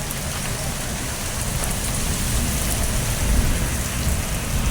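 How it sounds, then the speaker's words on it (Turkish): Heavy rain pours down in a dense, roaring wash, loud and unbroken, with a deep rumble swelling beneath it, in Turkey. "Dışarı çıkamayacak şekilde yağmur var."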